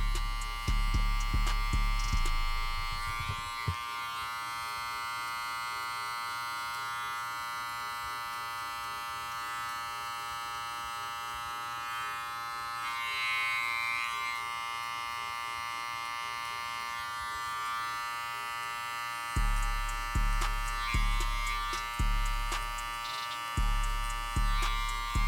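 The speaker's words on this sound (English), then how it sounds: "I'm gonna come back with my clipper and just clean up the area a little bit" Electric hair clipper running steadily while cleaning up the edges of a burst fade haircut, a continuous close buzz with louder handling bursts at the start and end.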